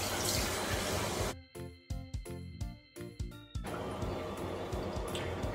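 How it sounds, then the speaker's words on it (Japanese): Warm water, around 38 degrees, splashes repeatedly as a face is rinsed over a running tap: a steady rush of flowing water is broken by a series of close, uneven splashing scoops, then the stream resumes. "大体38度ぐらいのお湯で洗い流していきます"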